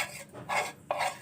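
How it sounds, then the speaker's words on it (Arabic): Starch mixed into cold water is stirred in a pot on the stove, a spoon scraping in slow, rhythmic strokes, close and alone. "هنرفعها على النار ونقلب كده"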